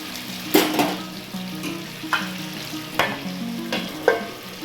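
Mutton and potatoes sauté together in a pan, a continuous close sizzle punctuated by about five sharp spatula scrapes and stirs at a roughly regular pace.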